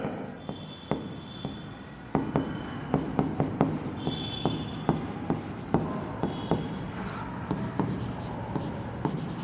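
A pen writes on paper with quick scratching strokes and irregular taps. The strokes come close and steady throughout, with no talk over them.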